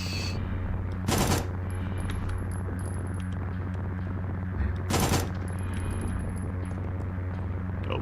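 SMG gunfire in the survival horror game Signalis: two short, loud bursts of rapid automatic fire a few seconds apart over a low droning hum, with faint high electronic tones between them.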